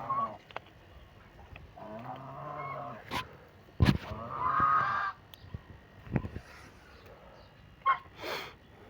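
Geese honk in a series of loud, nasal calls, several overlapping bursts near the listener with short quiet gaps between.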